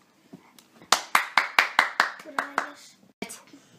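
A small group claps for a contestant at a children's comedy show: about nine sharp, evenly spaced hand claps close by, then one last clap after a brief pause, with a faint voice under them.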